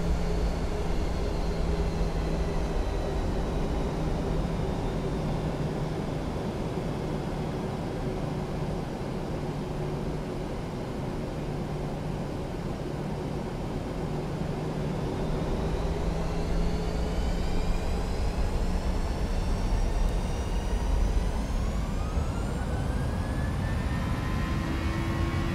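PMDG 737NG jet in a flight simulator accelerating down runway 35 for takeoff, a steady broad engine roar with a low hum, the turbine whine rising in pitch toward the end as the aircraft builds speed.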